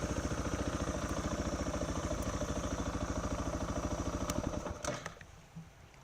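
A motorcycle engine runs close by with a steady, rapid pulsing under a little throttle on a rough trail near a lake, then cuts off and fades out near the end.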